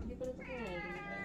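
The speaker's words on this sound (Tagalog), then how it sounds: "Ayan, pusa." A pet cat gives one drawn-out, wavering meow close by, fairly loud against a quiet room.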